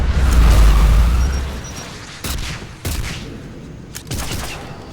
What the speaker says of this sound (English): All these rockets.